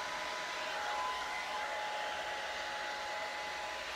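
A Remington hair dryer fitted with a Curly Co. diffuser blows in a steady, even whoosh with a faint motor whine, continuous and close with no talking.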